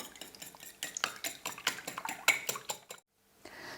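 Quiche filling of chicken mixture with salt and pepper stirred in a bowl, a spoon clinking and scraping in a quick steady rhythm for about three seconds, close and clear, then stopping into near silence.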